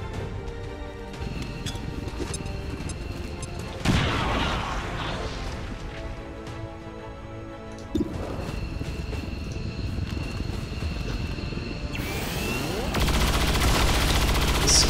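Gunfire in the XCOM 2 video game, sharp shots and rattling bursts with occasional impacts, set against a steady mechanical game ambience that swells toward the end.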